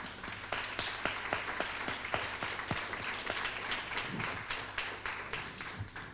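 An audience at a panel discussion of experts applauds steadily for several seconds, a continuous patter of many hands clapping in the room at moderate volume, with no one speaking over it.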